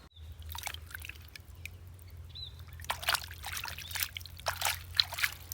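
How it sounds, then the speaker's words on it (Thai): Water trickles and sloshes as soil is rinsed off the roots of a desert rose (adenium), intermittent splashing bursts growing busier toward the end over a steady low hum, with no talk. "จากนั้นเอาน้องล้างน้ำสักหน่อยนะคะ เพื่อความสวยงาม"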